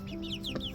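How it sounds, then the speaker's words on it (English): A grown female duck with bright iridescent blue-green stripes gives a short run of repeated nasal calls, fairly close and alone, with a faint background hum. "she's like a grown-up big girl duck now"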